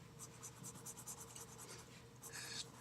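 An HB graphite pencil scratches across paper in a steady, faint rasp with small strokes, close and quiet, no talking.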